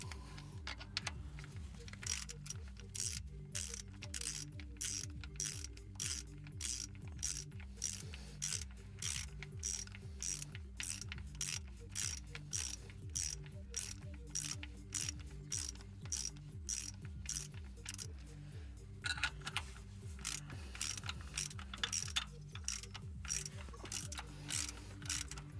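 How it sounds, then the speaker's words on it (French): Hand ratchet tightening the small screws that hold a starter motor's ground: a long, quiet run of rapid rhythmic clicking strokes, repeating steadily from start to finish. "C'est de la SMR chant du cliquet."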